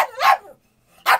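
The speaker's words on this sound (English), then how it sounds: "It's like a barrage of barking at me." A dog barks at close range in two loud bursts with a short gap between them, no talk.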